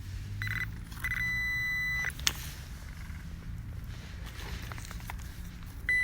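A metal detector gives two short, clear electronic tones in quick succession near the start, followed by faint rustling and a thud in a quiet outdoor setting.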